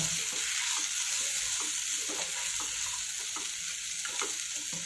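Crushed fried peanuts being mixed with salt and chopped coriander for a mayonnaise cheese sandwich filling, heard as a continuous hiss with soft rhythmic stirring scrapes repeating close by.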